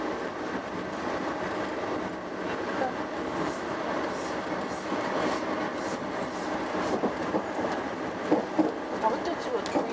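Freight train wagons for loading crushed stone and gravel rolling past, a steady rumble and rattle with faint clicking of wheels over rail joints, while people talk nearby.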